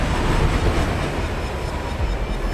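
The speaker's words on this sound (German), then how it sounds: "Wir warten, bis der Zug durch ist." A train rolls past in the video game Oddworld Soulstorm, a dense, loud, steady rumble of rail noise filling the short stretch without speech.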